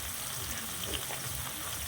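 Fish sizzle in hot oil in a frying pan, a steady close crackle and hiss that holds evenly throughout with no talking.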